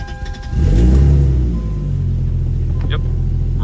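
A car engine, just fitted with a new O2 sensor, swells in a loud rev and then settles into a steady, close running rumble, with a little talk near the start.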